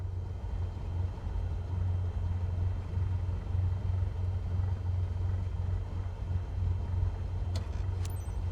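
A steady low droning engine hum runs throughout with no voices, a constant propeller-plane rumble from Microsoft Flight Simulator 2024, with a couple of faint clicks near the end.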